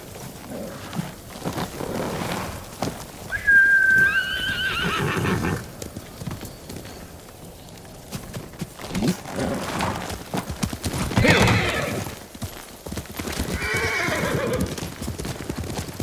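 A horse in Ghost of Tsushima on Iki Island whinnies loudly, then its hooves keep up a steady clip-clop, close and clear, with other game sounds around it.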